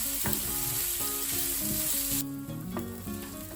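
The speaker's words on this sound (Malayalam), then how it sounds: "സവാളയെല്ലാം നന്നായി വഴന്നു വരണം." Two medium-sized finely chopped onions sauté in hot oil in a pan for a chicken liver roast. A loud, steady sizzle runs throughout, with soft background music and no talk.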